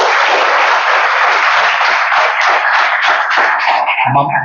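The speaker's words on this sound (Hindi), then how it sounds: "प्रिंसिपल सर और टीचर्स के लिए जोर से ताली बजाओ।" An audience of students at a polytechnic college claps loudly for the principal and teachers in a sustained burst of dense applause that thins out at the end.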